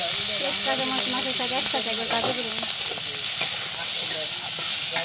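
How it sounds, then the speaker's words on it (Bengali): Onion and green chili hit frying fish in hot oil, raising a loud, steady sizzle and hiss that runs throughout, with a brief voice speaking over it early on. "পেঁয়াজ আর কাঁচা মরিচ দিয়ে দিচ্ছি মাছের মধ্যে"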